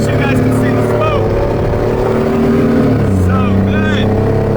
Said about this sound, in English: Boosted launches, even in giant trucks.